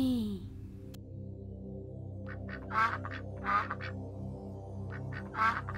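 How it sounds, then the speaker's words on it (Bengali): A duck quacks in short bursts at a moderate distance, three separate calls spread over a few seconds above a steady low background hum, with no talk. "ওই দেখো হাঁস।"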